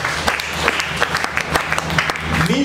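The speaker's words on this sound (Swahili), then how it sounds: "Tumwombe Yesu makofi ya utukufu" Congregation applause during a Swahili-language church prayer service: dense, sustained clapping from many hands fills the whole stretch, steady and fairly loud with scattered sharper claps.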